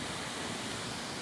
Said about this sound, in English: Isn't that waterfall just so beautiful?